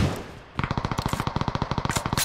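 Rapid automatic gunfire in a battle royale shooter, a burst of about twenty evenly spaced sharp shots fired in quick succession after a brief quieter lead-in, fairly close and loud.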